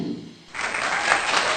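A gathering's applause swells in after a brief lull, a burst of many hands clapping that builds and holds steady, fairly close.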